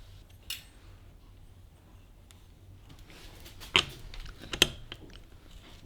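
Bicycle pedals with washers are tightened onto carbon 155mm Samox M7J kids' cranks, giving faint ratcheting and metallic clicks that turn into a few sharper ticks and clacks near the end of an otherwise quiet stretch.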